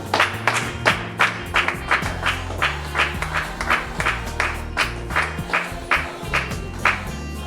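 A church congregation claps in acclamation during a worship service, steady rhythmic handclaps in unison roughly every half second, loud and close, over a low sustained music bed.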